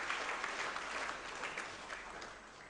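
Audience applause fills a graduation ceremony hall for an industrial furniture and wood-processing polytechnic, a steady wash of clapping from many hands that holds evenly throughout without voices.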